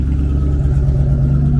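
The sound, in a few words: car engine revving with exhaust leak, stock headers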